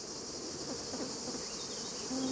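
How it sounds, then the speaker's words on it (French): Honeybees from crowded, heavily populated hives at a lavender field in Cucuron, Luberon, make a dense, continuous buzz that holds steady throughout, with no talking. "il faut amener des ruches très très très populeuses qui débordent d'abeilles"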